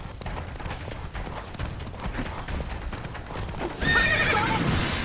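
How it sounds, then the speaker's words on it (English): A horse gallops with steady, loud hoofbeats and a sharp neigh near the end, set in The Witcher 3 video game, with clattering game sound effects around it. "Come on, Roach."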